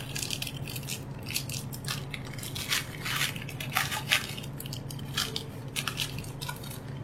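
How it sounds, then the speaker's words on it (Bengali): Close, continuous crinkling and rustling as a newspaper-wrapped packet of frozen fish is opened, with papery crackles and soft crunches throughout. "তো প্যাকেটটা আমি খুলে দেখাচ্ছি।"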